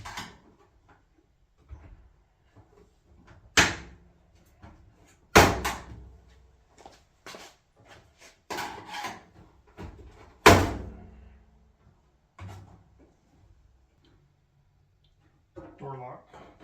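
Panel work on a Samsung clothes dryer as the front face is popped off: several sharp plastic-and-metal thumps and clunks spaced irregularly apart, with quieter handling noises and brief mumbled talk in between.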